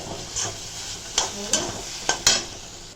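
Food frying in a pan, sounding as a low steady sizzle broken by several short scraping stirs near the mic, with no one speaking.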